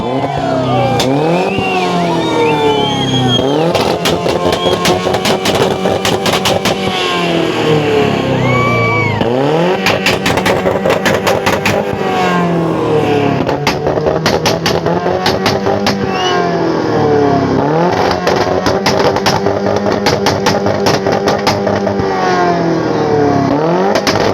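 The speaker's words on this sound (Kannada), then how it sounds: "ಬುಲೆಟ್ ರೀತಿಯಲ್ಲಿ ಸೌಂಡ್ ಹಾಗೇನೆ ಫೈರ್ ಮಾಡೋಂತ ಈ ಕಾರ್" A modified 'dragon' car's engine roars loudly and continuously, revving up and down in repeated sweeping surges with popping bursts, sounding like a Bullet motorcycle at a mango fair in Bangalore.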